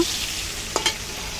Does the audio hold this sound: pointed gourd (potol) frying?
yes